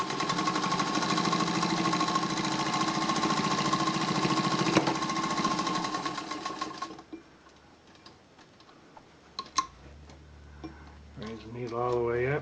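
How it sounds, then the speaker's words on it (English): A Singer 201K sewing machine stitching a side seam on jeans, running as a fast, steady mechanical chatter for about seven seconds, then stopping. After that come a few clicks and knocks, and a voice starts talking near the end. "So I'm going to sew on."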